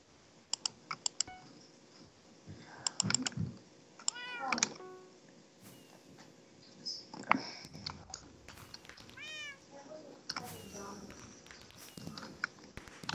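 Several short cat meows in the Minecraft Mineplex Block Hunt minigame, scattered over rapid keyboard typing and clicks, with a voice speaking intermittently in between.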